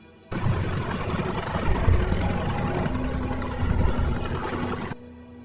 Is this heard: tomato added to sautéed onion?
no